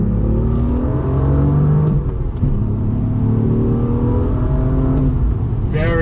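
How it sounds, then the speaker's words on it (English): A 2018 BMW M2's straight-six engine pulling hard out of a bend, a smooth steady rising drone with clear harmonic tones heard from inside the car, loud and continuous for about six seconds. "acceleration is so smooth from that straight 6"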